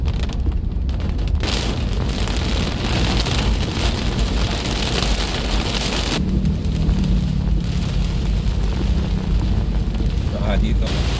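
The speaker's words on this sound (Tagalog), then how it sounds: "simula nang umambon na." Steady rain drums on a car and its wet windshield while driving, a dense loud hiss throughout, with a low rumble toward the end as thunder builds.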